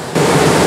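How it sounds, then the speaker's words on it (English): A waterfall on the Elidir Trail, flowing at reduced volume, rushes as a steady broadband roar that starts abruptly after a brief quieter moment and then holds loud and even. "waterfall is looking beautiful. It is flowing a lot less, I'm told."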